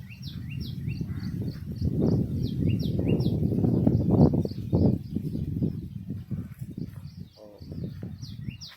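Several birds call with quick repeated chirps over low murmuring and rustling, with brief voices in the background.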